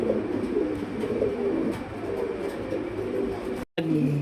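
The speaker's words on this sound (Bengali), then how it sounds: "এটা আসলে পুতুল না, এটা একটা কবুতর।" Pigeons at a Bangladeshi pigeon farm coo in low, rolling calls that overlap steadily, close and fairly loud, with a brief dropout near the end and no talking.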